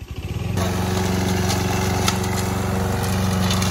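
A lawn mower engine sputters and then runs steadily and loudly nearby, with light knocks and clatter over its drone.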